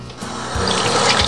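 Hot water pours from a sink tap for hand washing, a steady close splashing rush with soft clunks of hands under the stream.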